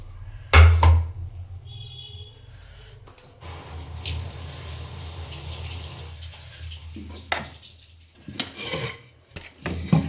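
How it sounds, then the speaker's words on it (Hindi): A metal cooking pot (handi) being washed at a sink, with running water, scraping and clanking of the pot, and a few sharp knocks scattered through a steady wash of flowing water. "पहले हांडी को वॉश कर लेते हैं"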